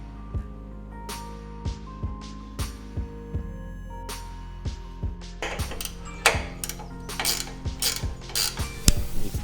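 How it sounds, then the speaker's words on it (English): Ratchet wrench clicking as it removes the 14mm nuts on the upper strut mount of a 5th-gen Toyota 4Runner, a close series of sharp ratcheting bursts. The bursts grow quicker and denser toward the end, with no talk. "The upper strut mount has 3 nuts that can be removed with a 14mm wrench or ratchet"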